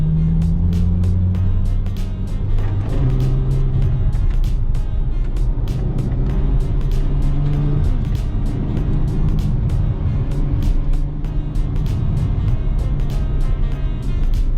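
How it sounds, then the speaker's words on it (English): A 2016 Ferrari F12 engine roars loudly and continuously up close, its pitch climbing through repeated acceleration runs with no speech over it. "So there's just a little sample of what this amazing car will do."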